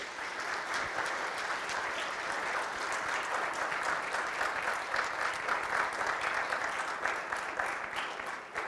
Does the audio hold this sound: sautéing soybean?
no